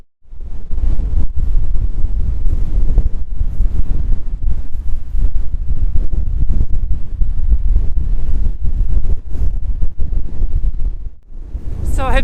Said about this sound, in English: So I've somehow made it to the lighthouse, and it is windy.